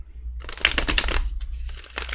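A deck of tarot cards is shuffled by hand, giving a soft, quick papery riffle and slide of cards for about two seconds, close and fairly quiet, with a low background hum.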